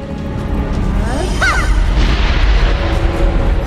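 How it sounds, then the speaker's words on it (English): Bombs burst in the Xuan-Yuan Sword VII video game, a loud rumbling boom with a sustained roar under brief chirping effects and a faint voice. "Oh, damn those bombs."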